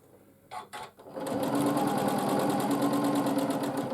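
A sewing machine free-motion quilts an arch on a quilt. A few soft clicks come first, then the fast, steady, close mechanical whir runs on loud and unbroken.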